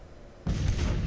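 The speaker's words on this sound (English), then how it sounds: "the bombardment is having an effect" Artillery bombardment in the Civil War strategy game Grand Tactician, a sudden loud boom that sets off a sustained rumbling roar of cannon fire.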